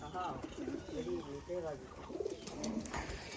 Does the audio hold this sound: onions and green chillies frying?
no